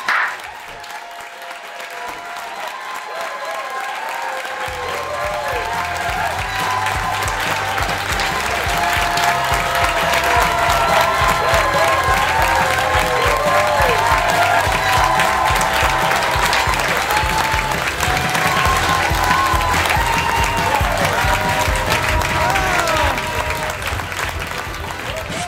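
A comedy show audience bursting into loud sustained applause, with cheers and whoops rising over the clapping, after a quieter start, the dense crowd noise swelling and holding for over twenty seconds.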